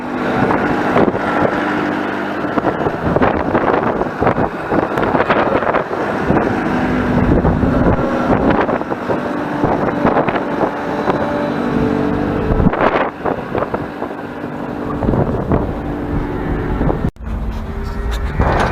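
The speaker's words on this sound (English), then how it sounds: "It is extremely windy out, so we're gonna keep this closed." Extreme wind on a farm while calves are being fed buffets the microphone in a loud, continuous roar with gusty surges and occasional knocks, and no one talks over it.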